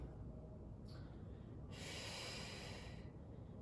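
Long breaths out during a restorative pilates exercise: a soft, airy exhale close to the mic, then a longer, louder sustained breath out, heard over a steady low background rumble with no talking.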